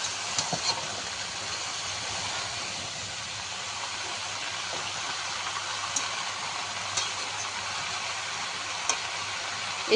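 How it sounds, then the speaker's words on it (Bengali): Mixed vegetables sautéing with spices for labra curry give a low, steady hiss throughout, with a few faint utensil clicks and taps scattered across it. "সবজিটা আমি মশলার সাথে একটু কষিয়ে নেব"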